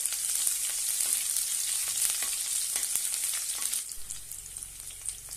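Finely chopped onion and cumin sautéing in a pan for curry leaves rice, a bright steady sizzle with intermittent stirring clicks, easing slightly toward the end.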